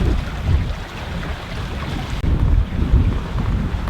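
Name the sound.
sailboat under sail in wind and waves, Mull of Kintyre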